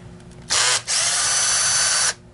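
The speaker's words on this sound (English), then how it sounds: "So we're actually going to pull all the screws out." Power drill backing screws out of a Dyson DC23 canister vacuum, two close high-pitched whirring bursts, a brief one and then a longer sustained one, loud against a quiet room.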